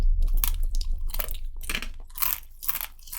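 Loud close crunching while biting and chewing a scorpion tail, several sharp crackly bites in quick succession, no talking.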